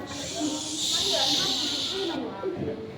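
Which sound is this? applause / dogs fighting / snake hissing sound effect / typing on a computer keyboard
snake hissing sound effect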